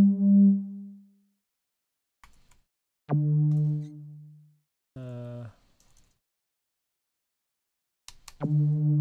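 Short synthesized saw-wave blips from a non-sustaining percussive envelope in SuperCollider sound a few times with gaps between, each a percussive tone that decays quickly; a brief voice fragment appears in between.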